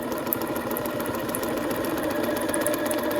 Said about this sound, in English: Drop the presser foot, ready to go, and start sewing straight again.